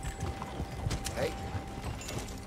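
A horse in Red Dead Redemption 2 trots with rhythmic hoofbeats that clop steadily at moderate volume, with faint tack jingles and creaks blended underneath.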